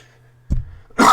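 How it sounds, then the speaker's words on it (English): A single sharp cough from one person indoors, brief and close, followed a moment later by a louder burst of breathy noise. "Excuse my cough."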